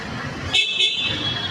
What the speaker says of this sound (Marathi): मुंबईची हीच ती हेवी ट्रॅफिक.